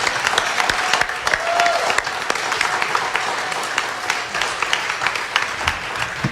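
An audience applauds young musicians at a summer camp gala, a sustained wash of clapping from a crowd that stays steady throughout.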